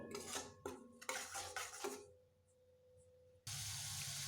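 Spice masala is sautéed in a pan for a pumpkin dish: a run of rhythmic spatula scrapes and clanks on the pan, a short quiet pause, then a sudden loud, steady hiss of sizzling.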